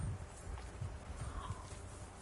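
Horse hooves clip-clop steadily in Kingdom Come Deliverance 2, a continuous rhythmic clatter of a walking mount over a low ambient bed, with no talk.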